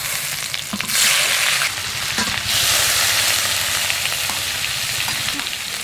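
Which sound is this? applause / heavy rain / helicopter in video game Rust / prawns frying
prawns frying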